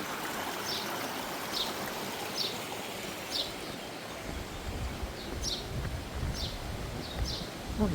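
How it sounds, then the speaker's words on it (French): A small waterfall and flowing stream rush steadily beside a village path on a pilgrimage route, with birds chirping several times over the constant watery wash. "Une cascade."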